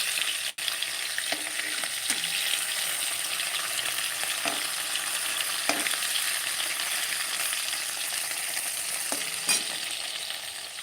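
Fish sizzling steadily in a hot frying pan, a continuous dense crackle with occasional louder spits and stirring scrapes, close and alone.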